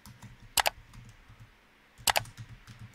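Two short bursts of computer keyboard keystrokes, a few quick close clicks each, separated by a quiet pause with faint room noise.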